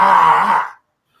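A man yawns once, a drawn-out, groaning vocal sound that fades out after under a second, followed by silence.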